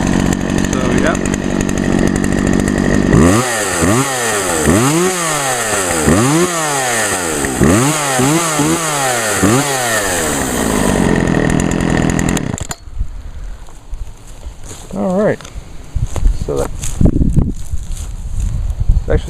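A Poulan 2075 chainsaw cutting elm wood revs loudly and repeatedly, its engine pitch climbing and falling with each cut for several seconds. It then cuts off, leaving quieter handling noises and rustling.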